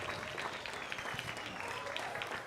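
Players from a Punahou girls' high school soccer team clap for their supporters after a game at 'Iolani, a faint, distant patter of applause blending with the low murmur of an outdoor crowd.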